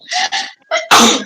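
A close, loud sneeze, with sharp breathy build-up gasps leading into one forceful burst.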